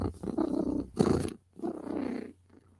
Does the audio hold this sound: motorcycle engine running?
no